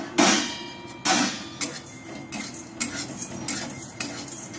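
Whole spices and cumin are roasted in a hot wok while being stirred, with repeated sharp metal scrapes and clinks of the spatula at irregular intervals over a soft background crackle, close up.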